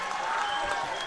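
Crowd clapping in a high school girls' basketball gym during South Seneca versus Romulus, dense steady applause filling the space, close and continuous, with a few voices mixed in.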